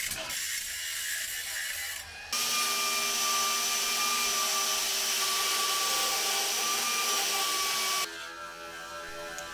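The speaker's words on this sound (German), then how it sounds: "Dann das Ganze natürlich wie immer schön glatt schleifen." An angle grinder smoothing welds on the rusty floor pan of a VW T1 van, a loud steady high-pitched whine and grinding roar that runs continuously for several seconds, preceded and followed by quieter workshop noise, close by and with no talking.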